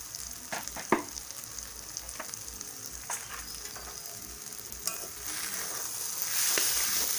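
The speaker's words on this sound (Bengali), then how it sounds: "এখন মশলা সহ সব কিছু 2 মিনিট ভেজে কষিয়ে নেব" Ground cumin, coriander, chili and turmeric powders with salt fry for a soya kofta curry, a steady close sizzle with a few sharp clinks of a spoon against the pan, swelling louder toward the end.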